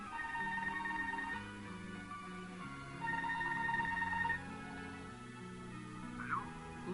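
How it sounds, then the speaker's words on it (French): A telephone rings in a 1983 Renault 11 Electronic car, two bursts of electronic warbling tones separated by a pause over a low hum of music, fairly faint. "téléphone."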